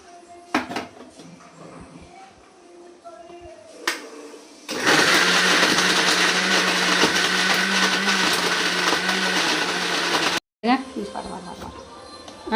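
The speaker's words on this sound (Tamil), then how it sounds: "இப்போ கறி அரைக்க போயிடுங்களா?" Mixer grinder grinding chicken meat, a loud steady motor whir running for about six seconds before cutting off abruptly, with brief talk and clatter before it and a short restart after.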